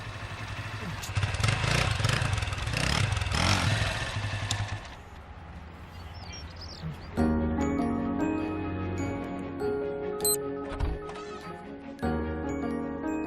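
An old, worn-out scooter engine idles and rattles with a steady clattering drone, loud and close, with a pause midway before it runs again; faint voices or street sounds mix in.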